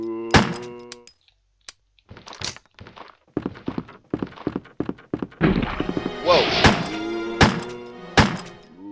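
Gunfire aimed at a zombie in the survival horror game Resident Evil 1: several sharp game gunshots spaced a second or so apart, with a voice speaking briefly between them.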